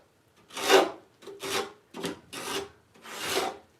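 Sawzall bit used by hand as a chisel, scraping out grooves in a wooden board in a shop: five rough rasping strokes of about half a second each, close and moderately loud, with short pauses between them and no voices.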